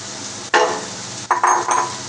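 Noodles drop into a pan of spicy masala and are stirred, giving a steady sizzle of frying broken by a few sharp scrapes and clatters from the pan.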